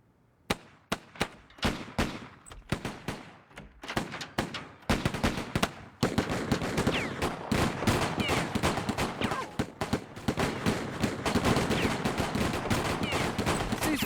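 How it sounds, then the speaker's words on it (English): Gunfire from a Grand Budapest Hotel animated storyboard opens with sharp, separate shots, then builds into a dense, continuous barrage of rapid bangs, loud and close. "Ceasefire, stop it! Who's shooting who?"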